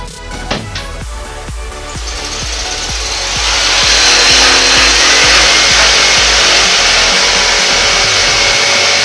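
A power tool cuts and sands a wooden trunk floor panel being trimmed to fit a Ford Focus ST hatch, starting with a few sharp knocks and rhythmic strokes before settling into a loud, steady grinding whine.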